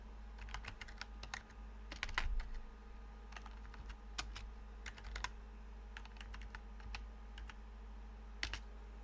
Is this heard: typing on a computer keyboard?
yes